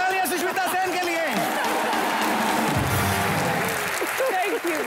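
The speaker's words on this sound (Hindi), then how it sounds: "जोरदार तालियां सुष्मिता सेन के लिए." Studio audience applause on a Hindi comedy talk show set as an actress walks on, a dense sustained clatter of clapping with crowd noise and cheering running through the whole stretch, over a host's voice and music.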